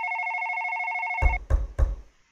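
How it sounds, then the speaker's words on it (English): A phone rings in a horror video game, a steady electronic ring held alone for about a second, then cut off by three heavy low thuds in a row. "Ring a ring a ring. Guess I better answer the phone."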